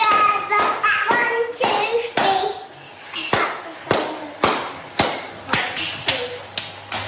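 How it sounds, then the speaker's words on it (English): Hands clap together in a children's song, a dozen or so sharp claps in an uneven rhythm, close and fairly loud, with a singing voice and tones running between them. "Clap your hands together,"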